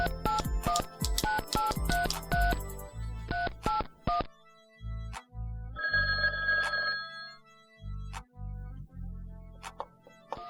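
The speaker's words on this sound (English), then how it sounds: "I need to make a quick phone call and set up a meeting." Telephone being dialed with rapid DTMF keypad tones, then a phone line ringing in repeated bursts, heard clearly and alone with no talk.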